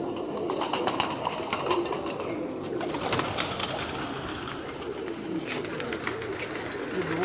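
Pigeons, a keeper's flock including a female, coo and flutter close by in a busy loft, with continuous soft cooing layered over rustling and scattered clicks.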